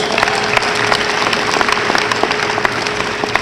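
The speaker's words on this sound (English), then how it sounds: "Let's give President Frederick a round of applause." Audience applause at a youth leadership summit at Albany State University, brisk, steady clapping from a crowd, loud and sustained, with a faint tonal hum beneath.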